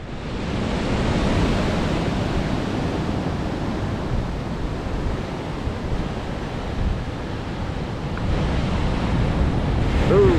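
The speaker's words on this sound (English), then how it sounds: "waves are a little blown out, but guys are still out having a good time." Wind-blown ocean surf breaking at Pacific Beach, California, a broad, continuous roar that swells and eases slightly, loud and steady, with wind buffeting the microphone.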